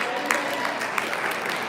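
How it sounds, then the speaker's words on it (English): An audience at a Poetry Out Loud recitation event claps in steady, dense applause that continues throughout at a fairly loud level. "Let's give it one more round of applause for our judges, our winners,"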